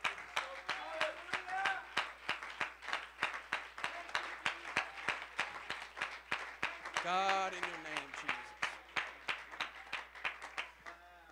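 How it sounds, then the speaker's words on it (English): Church congregation clapping hands in a steady rhythmic beat during a worship service, with a voice shouting over the claps midway, moderately close. "Would you give the Lord a hand clap?"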